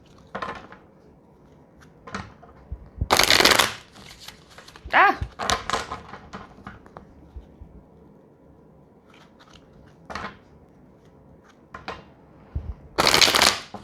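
Tarot cards being shuffled in several crisp riffling bursts, close by, with quieter shuffling and handling noises between them.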